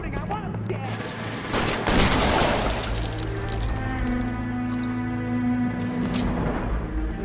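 Rapid gunfire bursts from a shootout in the video game L.A. Noire, dense and loud throughout, with a voice shouting over the shots.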